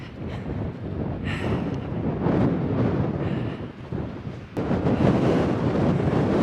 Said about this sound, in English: the wind blowing from down these valleys is just brutally cold